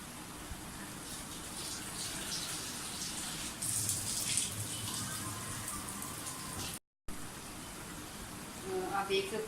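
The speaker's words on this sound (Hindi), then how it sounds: "मैं थोड़ा सा पानी डालूंगी क्योंकि पालक हमारी काफ़ी ठीक हो गई है।" Water poured into a cooking pot of spinach and koftas, giving a soft, steady gush and splash over a constant background hiss, with a brief pause before the sizzle resumes.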